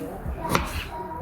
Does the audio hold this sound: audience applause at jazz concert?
no